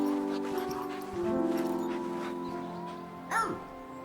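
Cartoonish dog yips, whimpers and barks from the co-op video game Foogs, which features a two-headed Siamese dog, sound over a steady tonal music bed, with a brief louder squeal near the end.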